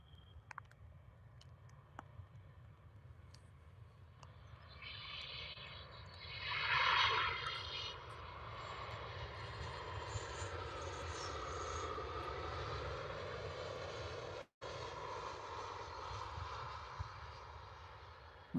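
A Jet2 airliner lands at Liverpool Airport in strong wind and heavy rain, its engine roar swelling, peaking and settling into a sustained broad rumble under steady wind noise, with a brief dropout partway through.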